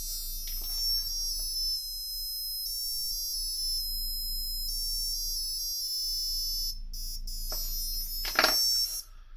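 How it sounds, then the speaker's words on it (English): A customizable alarm tone from an Ollie Watch, a modified Casio F91-W digital wristwatch, plays as a sustained bright electronic melody of steady tones, stopping briefly before a short louder burst near the end. "Just having an alarm that's so customizable."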